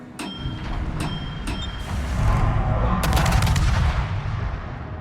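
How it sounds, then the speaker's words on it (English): Turrets on the Mogador destroyer fire in World of Warships, several sharp, loud gun blasts in quick succession over a dense, rumbling low roar of ship and sea, with no talking. "let's get some shots down on him"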